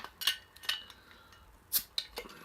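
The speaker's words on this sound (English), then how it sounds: "So I'm going to go and crack this open now." A bottle of Thirsty Dog Siberian Night imperial stout is opened with a few sharp metallic clicks and clinks, close and brief, separated by short quiet gaps.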